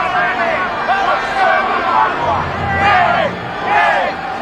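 Crowd at a 1995 rugby league sevens match cheering in rising and falling swells while a commentator's voice runs over them.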